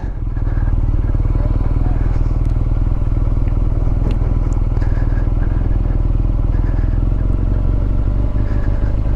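A 2020 BMW R nineT S motorcycle with a 1170cc engine idles steadily up close. The low rumble runs throughout with a faint mechanical clatter on top.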